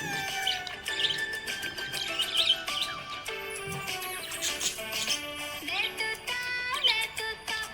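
A happy budgie parrot chirps and warbles nonstop, with rapid, bright tweets and trills layered close and fairly loud over several seconds.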